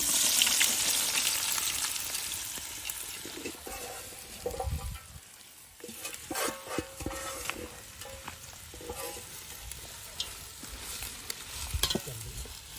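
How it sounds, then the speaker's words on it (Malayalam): Onions sautéed in hot oil in a pan for chicken biryani, a loud continuous sizzle that eases midway, then resumes with repeated scraping and stirring strokes against the pan, close up and without talking. "ഉള്ളി വഴറ്റെടുക്കാം."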